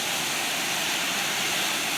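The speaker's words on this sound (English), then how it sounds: "It's a nice waterfall." Rushing water from the waterfall at Johnny Falls, Johnny-Behind-the-Rocks near Lander, Wyoming, roars as a constant, even hiss close by with no pauses and no voices.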